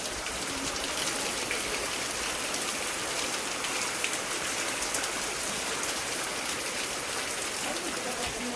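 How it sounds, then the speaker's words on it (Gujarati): Heavy rain pours down in a dense, steady hiss with no let-up, a constant wash of drops striking surfaces all around. "આપણે હાલે વરસાદ ચાલુ જ છે જુઓ"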